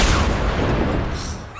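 Rapid gunfire bursts from the Fortnite video game crackle densely and loudly for under two seconds.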